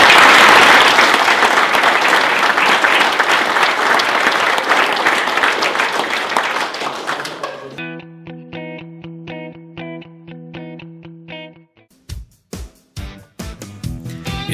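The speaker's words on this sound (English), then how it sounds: "I'd like everybody to at least give them applause for everything that they do" Audience applause for a couple at an Ontario event, dense and loud at first, then fading after about seven seconds as steady tonal music and sharp percussive hits take over.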